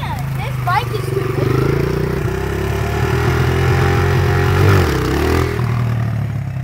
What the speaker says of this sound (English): rev it out high and pop that clutch